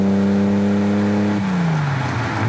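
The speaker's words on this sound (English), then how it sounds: "Oh, what a baritone motor this thing has." A Ferrari Daytona engine pulls hard with a deep baritone drone, then the pitch shifts and falls as the car shifts gears, loud and close from inside the car.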